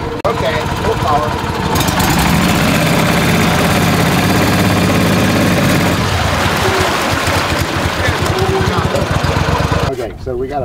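Boat engines run at full power on a Florida lake restoration job, a loud steady mechanical drone and churn that holds for about ten seconds before cutting off, with people talking over it.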